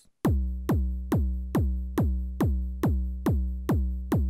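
A steady four-on-the-floor kick drum pattern from the GS-01M techno app, evenly spaced booming electronic thumps, loud and alone, with a slight ringing tail on each hit.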